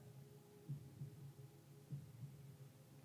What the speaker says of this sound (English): It's the Earth's heartbeat.